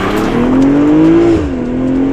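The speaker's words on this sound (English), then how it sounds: "You will never get tired of launching this car" A 2023 BMW M340i launches hard in Sport Plus mode, its engine loud and close, climbing steadily in pitch before a brief dip at the upshift and then pulling on.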